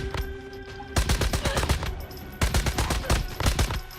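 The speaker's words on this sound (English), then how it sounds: "should we try the LMG?" An LMG fires in the video game Once Human, with rapid bursts of automatic gunfire separated by a short pause, loud and punchy, with no speech over them.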